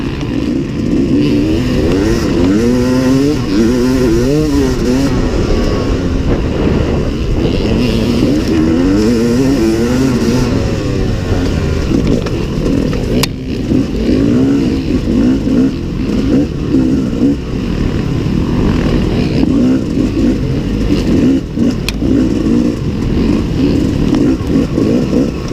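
A Yamaha YZ250 two-stroke motocross bike screams wide open in a race, its engine revving and shifting continuously and loudly up close throughout, with other bikes audible around it.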